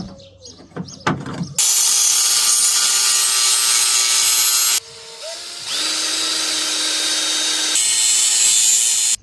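A power tool cuts through a piece of metal for the rear end of a rat rod truck, a loud steady grinding whine running in two long passes with a brief break between, alone with no talk.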